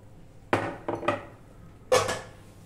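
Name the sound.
serving bean curry from pan into a bowl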